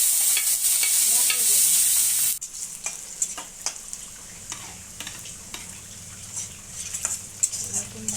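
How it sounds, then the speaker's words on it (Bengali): Garlic frying in a pan, a loud bright sizzle for the first couple of seconds that drops to a softer crackle with scattered spoon scrapes and stirring clinks. "রসুন ভাজা হয়ে গেছে"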